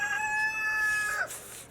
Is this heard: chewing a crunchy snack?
no